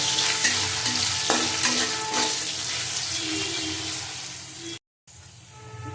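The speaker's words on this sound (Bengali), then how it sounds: "লবণ দিয়ে একটু নাড়াচাড়া করব" Green tomato and potato curry is stirred in a frying pan, with a strong continuous sizzle and scraping spatula strokes that stop abruptly before a brief quieter tail.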